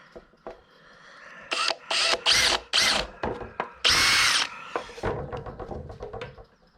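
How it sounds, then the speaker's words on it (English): A power drill whirs in a series of short bursts, re-drilling holes in a fiberglass bike fender, revving up and stopping repeatedly, close by, followed by some handling noise. "I want to re-drill my holes."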